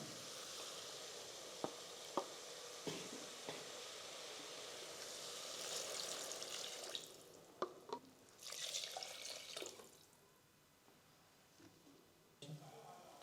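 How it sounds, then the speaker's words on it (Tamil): Water is poured into a pan of sautéed vegetables and tomato for millet sambar rice, hissing and sizzling loudly at first, with a few clinks of utensils, then settling into a quieter bubbling simmer. "நல்லா காயெல்லாம் வதங்கிருச்சு. இப்போ தண்ணி சேர்த்துக்கலாம்."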